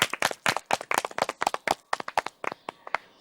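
A small studio audience on a talk show claps for an arriving guest, a sparse burst of distinct, close hand claps in an uneven rhythm that gradually slows and fades out.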